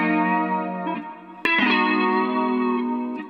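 Clean electric guitar through a washed-out lo-fi indie amp preset with lush reverb, sustained chords ringing with a dreamy shimmer and a brief pick attack before the next chord swells in.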